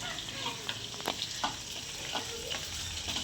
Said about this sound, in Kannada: ಸಾಸಿವೆ, ಅಂಡಿ, ಎಣ್ಣೆ, ಈರುಳ್ಳಿ, ಕರಿಬೇವಿನ ಸೊಪ್ಪು ಹಾಕ್ಬಿಟ್ಟು ಹಾಕ್ತೀವಿ.